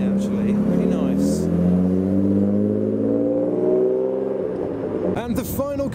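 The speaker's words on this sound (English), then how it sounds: "this loud E36. It departs." A loud BMW E36 engine revs loudly and pulls away from a night car meet, its drone shifting in pitch as it departs, then fades into a brief burst of nearby noise.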